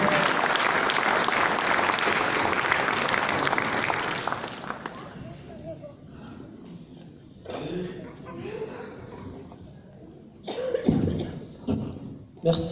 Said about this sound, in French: On peut l'applaudir, vous avez bien raison.